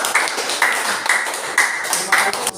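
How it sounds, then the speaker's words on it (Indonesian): A class gives applause for a student group after its presentation, heard as close, rhythmic clapping in an even beat of about two claps per second. "Coba beri aplaus untuk kelompok 1"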